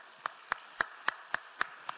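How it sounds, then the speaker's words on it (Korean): A church congregation claps for their neighbours during a Sunday morning service: seven evenly spaced, crisp claps in a quick steady rhythm, fairly faint and slightly distant, with no talk over them. "자, 우리 옆 사람 박수 쳐줄까요?"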